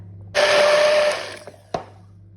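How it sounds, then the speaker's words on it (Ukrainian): A blender whirs loudly for about a second pureeing frozen strawberries, then winds down, followed by a couple of faint knocks and a sharp clunk. "зараз будемо взбивати блендером та робити пюре"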